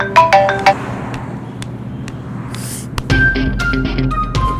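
A phone ringtone plays in bright melodic chimes, starting and stopping in short bursts over a low background hum.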